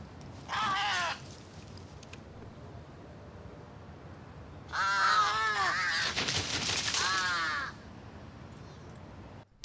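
Crows caw loudly nearby in two bursts: a short single call first, then a longer series of harsh overlapping caws a few seconds later, with quiet background between them.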